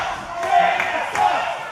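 Wrestling crowd at an OVW event roaring in disapproval at a wrestler, a broad sustained mass of voices swelling twice in loud bursts of jeering.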